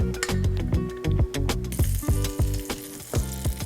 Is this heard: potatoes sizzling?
yes